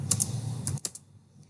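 A quick run of computer keyboard keystrokes typing a web page title, a few crisp clicks close by over a low hum, then trailing off into quiet.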